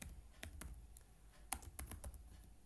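Typing on a computer keyboard while entering field names into a Microsoft Access table, a quiet, irregular run of separate key clicks with no talking.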